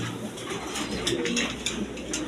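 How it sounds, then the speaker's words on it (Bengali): Pigeons on a crowded pigeon farm coo in a steady, overlapping murmur, with soft wing rustles and faint background bird chatter running throughout. "তার কবুতরের খামার আছে, প্রচুর পরিমাণে কবুতর আছে এখানে"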